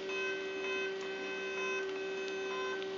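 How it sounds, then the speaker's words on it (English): A GoDEX G500 car plate printer runs steadily while printing a number plate, giving a continuous electronic whine with faint ticking and clicking over the whole stretch, close and unbroken, with no voices. "And here comes our printer."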